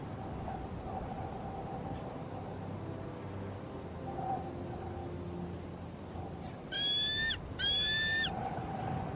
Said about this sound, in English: ringing and echoing across the water from the bird Zambians consider the very soul of the river